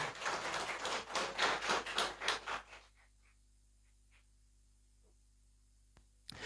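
An audience at a book presentation in Cochabamba gives brisk, rhythmic applause for about three seconds, then the clapping stops and the room falls nearly silent apart from a few faint knocks.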